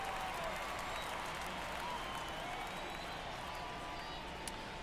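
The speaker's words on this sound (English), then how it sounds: "Crowd is going a little bit happy here, seeing what's going on." Crowd cheering in the MLB The Show 2024 baseball video game during a night game, a faint, steady wash of stadium crowd noise with light clapping, distant and continuous.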